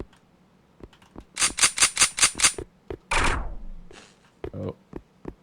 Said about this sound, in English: it's a machine gun with a big rotary barrel